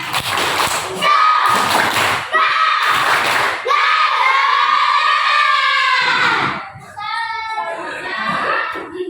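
A class of children performs the tepuk semangat clapping chant, loud rhythmic bursts of group claps and thumps alternating with children's chanting voices, close and energetic throughout.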